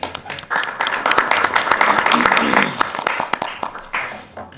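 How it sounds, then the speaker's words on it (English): Applause from attendees at a board meeting, a dense steady patter of many hands clapping for a few seconds, fairly close, with some talk mixed in before it fades. "We've gotten applause for drawing the short straw"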